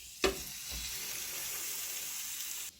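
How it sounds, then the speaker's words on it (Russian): Chicken legs and halved bun pieces frying on a hot grill, a steady close sizzle with a brief sharp crackle as food hits the surface, then even hissing that cuts off abruptly near the end. "Пока у нас курочка с булочкой жарятся, греются"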